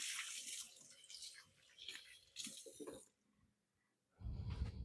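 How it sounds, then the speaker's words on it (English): A running tap splashing while hands are washed, in bursts of rushing water with gaps of near silence and a louder gush at the end, fairly faint overall. "I'm going to wash my hands"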